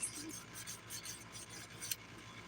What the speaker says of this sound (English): So I'm using my usual thin 100 by 180 grit file.